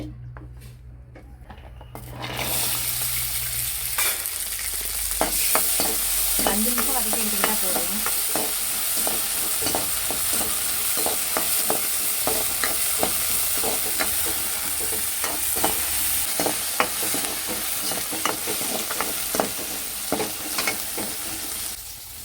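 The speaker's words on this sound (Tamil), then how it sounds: "இதை வந்து எண்ணெயில் போட்டு வதக்கி எடுத்துக்கலாம்" Crushed turkey berries sautéing in hot oil in a pan, a steady close sizzle broken by frequent spatula scrapes and stirring clatter, with a brief voice partway through.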